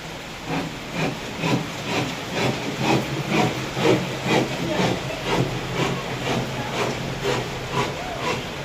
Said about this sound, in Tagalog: Lakas na ng ulan eh